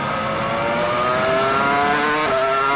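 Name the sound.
Formula 1 race car engine and gear changes, 2002 Spanish Grand Prix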